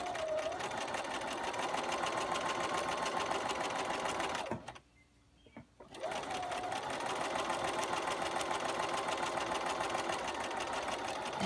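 A sewing machine stitches a quilt in a continuous, fairly quiet run, stopping briefly midway and then resuming.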